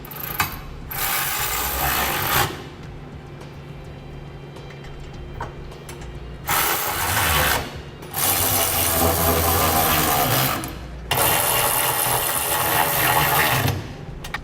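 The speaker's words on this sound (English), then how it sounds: "Now we can begin using a 3/4 inch wrench and socket and tightening the hardware that attaches our center section to our cross rails." A 3/4 inch wrench and socket tighten the hardware joining a fifth wheel trailer hitch center section to its cross rails on a 2012 Chevrolet Silverado, producing loud bursts of rapid ratcheting clicks separated by pauses.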